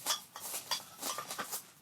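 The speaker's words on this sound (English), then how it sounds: "you do need a piece of styrofoam. That's that crunching noise you're hearing" Crunchy, irregular bursts of styrofoam being handled and pressed during a craft project with dollar-store cookie cutters, close and fairly quiet, a string of short squeaky crunches with no talking.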